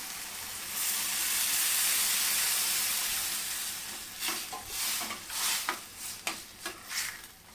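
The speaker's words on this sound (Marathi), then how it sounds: "आता याच्यामध्ये मी एक ग्लास पाणी टाकते गरम" Water poured into a hot pan of field beans fried with onion sets off a loud, sustained steaming hiss, then gives way to rhythmic bursts of stirring and bubbling.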